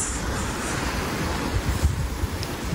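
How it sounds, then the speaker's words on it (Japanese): Wind blows steadily across an open backpacking campsite, making a soft continuous rush with low buffeting gusts against the microphone. "風が結構吹いてきて"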